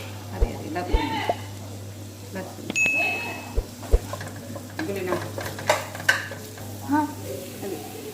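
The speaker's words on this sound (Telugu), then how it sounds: "ఆనియన్స్ వేసుకుంటున్నాను" Onions frying in a pan for a chicken dish, a soft sizzle broken by irregular knocks and scrapes of a spoon against the pan and a bright metallic ding, with a voice talking over it.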